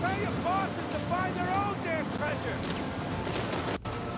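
A speedboat engine from the video game Uncharted 4 drones continuously with a windy, watery rush of a sea chase, while someone talks over it throughout.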